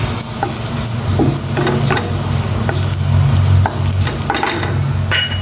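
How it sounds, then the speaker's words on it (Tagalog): Garlic frying in a pan until it browns, a loud, close, continuous sizzle broken by repeated scraping and stirring strokes of a utensil, with no talk. "Nagma-brown na itong bawang. Ito yung gusto ko, brown."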